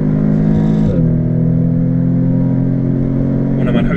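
An Audi S3 hatchback accelerating, a loud close engine drone with a clear gear-change dip near one second before pulling steadily again.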